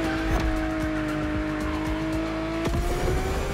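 A custom Liberty Walk Lamborghini Aventador in The Crew Motorfest racing game, its engine droning steadily at high revs with rising pitch and a brief shift or tire chirp, close and continuous without talk.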